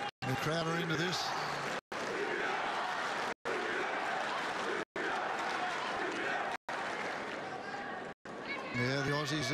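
Tennis crowd at a Djokovic–Tomic match roaring and cheering at deuce, a loud, sustained dense roar broken by several brief cuts, with a commentator's voice heard at the start and end.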